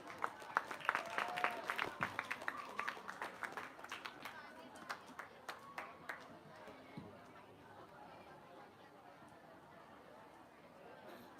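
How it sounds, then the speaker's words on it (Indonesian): A crowd claps briefly, the applause fading within a few seconds into murmuring chatter and room noise. "Kami mohon tepuk tangan meriah dari supporter."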